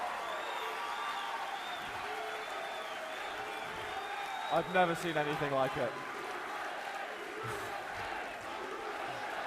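A crowd cheering and applauding at the QuakeCon 2016 Quake Live grand final, a steady roar of clapping and shouts in a large hall, with a commentator talking over it.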